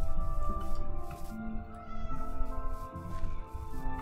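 A cat meows repeatedly in Minecraft, a few drawn-out game mews in a loose rhythm over background game music, near and clear.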